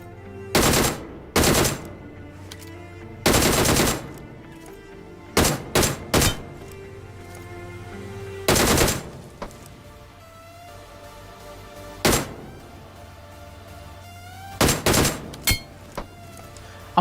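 Short DP-28 machine gun bursts fired in the BGMI mobile battle royale game, several sharp separate volleys spaced irregularly over a low steady game background with no talking.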